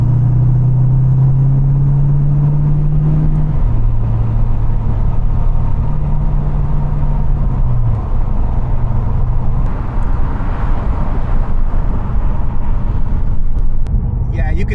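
A Ford Mustang with an aftermarket exhaust cruising in 5th gear on an open road, a steady low engine drone and road rumble heard from inside the car, with a voice talking over it.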